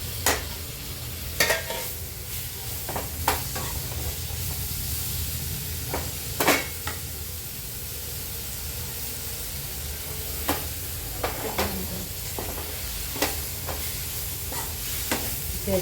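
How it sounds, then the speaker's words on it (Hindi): Onion and tomato masala for chicken kofta stirred and sizzling in a pan, a steady frying hiss broken by repeated scraping stirs, close up and without talk. "इसे अच्छी तरह घुमा लेना है गाइस, मसाला पकने देना है अच्छी तरह।"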